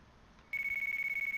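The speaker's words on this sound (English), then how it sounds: "Oh, phone." A phone rings in the video game Yakuza 4, starting abruptly after a brief quiet moment as a steady, loud, trilling electronic tone that pulses rapidly without any talk.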